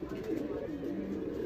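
A pigeon of a racing breed coos softly and continuously at close range, a low murmuring sound that fills the brief moment alone, without talk.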